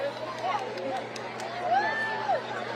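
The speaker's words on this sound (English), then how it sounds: "now people are starting to cheer more as totality" A crowd cheers as totality nears during the April 8, 2024 solar eclipse in America, with a broad babble of voices, shouts and a few rising whoops and whistles.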